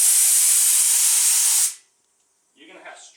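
A spray gun blasts activator in one loud, steady hiss for about a second and a half, then cuts off abruptly, and a voice starts speaking after a short silence.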